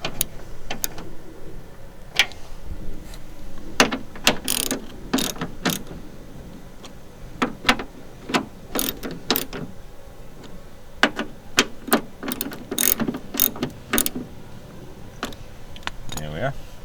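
A repaired 1990–1997 Mazda Miata MX5 window crank winding the window up and down, giving close, repeated ratcheting and clicking mechanism sounds in an uneven rhythm.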